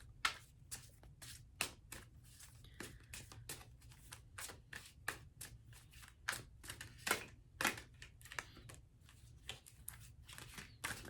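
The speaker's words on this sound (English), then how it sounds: "I've been like failing at shuffling lately." Tarot cards are shuffled by hand close to the mic, giving a string of sharp, papery riffles and slaps in an uneven rhythm over a low steady hum.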